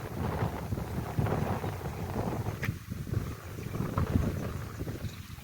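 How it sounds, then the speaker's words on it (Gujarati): Steady, strong wind blowing across an open farm field buffets the microphone with a continuous low roar and rushing noise, loud and close throughout. "મસ્ત પવન આવે જોરદાર"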